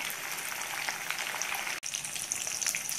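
Fish frying in oil in a covered pan, a steady crackling sizzle with fine spitting pops throughout and one brief sharp dropout, with no talking.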